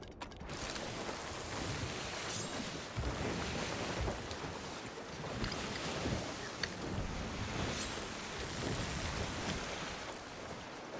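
A ship sailing away across open water in Sea of Thieves, a steady wash of wind and waves against the hull with creaking mechanisms, continuous and fairly loud with no voices.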